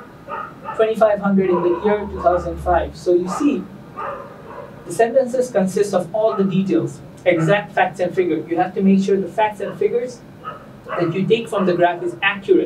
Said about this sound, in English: I'm sorry for the dog sounds.